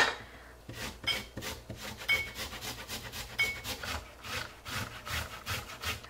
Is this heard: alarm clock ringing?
no